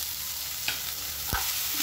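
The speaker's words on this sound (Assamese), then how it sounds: "আমাৰ অকণমান ভাজি হৈছে ৰঙচুৱা হৈছে এতিয়া মই ইয়াতে মাংসখিনি দি দিছোঁ" Meat sizzling steadily in a hot pan with browned oil, a soft continuous hiss broken by a couple of sharp stirring scrapes and clinks.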